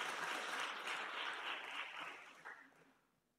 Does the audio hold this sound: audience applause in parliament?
yes